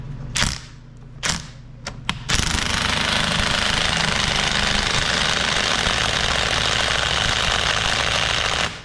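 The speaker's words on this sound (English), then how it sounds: "Let's just see if it works and my impact can do this." Impact wrench driving a Ford pitman arm puller on a 2008-2010 6.4 Powerstroke steering gear: a few short sharp bursts, then a loud continuous hammering rattle for several seconds, close and alone.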